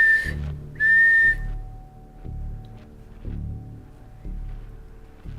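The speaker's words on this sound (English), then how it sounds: "That was two whistles" Two short, high whistles sound near the start inside a quiet room, the second slightly longer, followed by low, soft rumbling.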